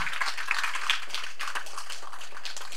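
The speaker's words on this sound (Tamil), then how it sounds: "பலத்த கரகோஷம் கொடுங்க அவருக்கு" Loud applause from an audience at a Tamil film event, honoring a man who fed the people watching a shoot; dense steady clapping fills the whole stretch with no gaps.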